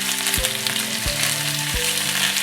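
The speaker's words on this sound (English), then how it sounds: "we just want to cook this into our skillet now. Just get a sort of a nice colour on there." Chicken pieces sear in a skillet for a chicken cassoulet, a loud constant close sizzle with low tonal hums and a few sharp thuds as pieces are shifted, no voices.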